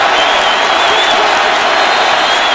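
Stadium crowd at a Raiders versus Colts NFL game in Indianapolis, a loud continuous roar of cheering and noise filling the whole stretch.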